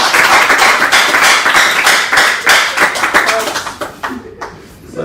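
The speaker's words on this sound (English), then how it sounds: "give them a big round of applause again" A studio audience breaks into a burst of rapid, loud clapping that thins out and fades toward the end, with some voices mixed in.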